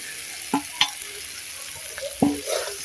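Fried potatoes and apple snails being stir-fried in a pan give a faint background hiss, punctuated by a few distinct knocks and scrapes of a spoon against the pan.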